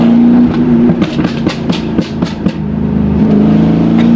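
A loud, close Noble M600 sports car engine rumbles and revs, with a rapid series of sharp exhaust pops and crackles riding over the deep drone.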